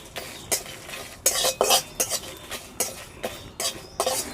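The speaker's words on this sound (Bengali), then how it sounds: "দুটো দুটুকরো দারচিনি দুটো এলাচ একটু গোটা জিরে দিয়ে এবারে আমি এটাকে ভেজে তুলে রাখব" Whole cinnamon pieces, cardamom pods and cumin seeds stirred in a pan, with a quiet sizzle under repeated sharp scrapes and clinks of a spoon against metal in an irregular rhythm.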